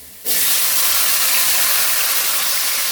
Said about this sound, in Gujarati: હવે ટમેટા અને મરચું અને ડુંગળી આપણે આની અંદર વઘાર કરશું